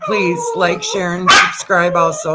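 A pet dog barks in the background, a burst breaking through while a person keeps talking loudly and steadily over it.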